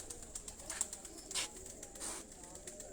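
A crossbred pigeon of golden and dub lineage coos softly nearby, faint low murmurs under several sharp clicks and flutters, with a little talk in the background.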